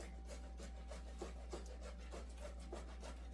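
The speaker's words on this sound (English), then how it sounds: "So I'll continue grating all of this pine and I'll be back." Pineapple is grated by hand in a steady rhythm of soft, faint rasping strokes, repeated regularly over a low constant hum.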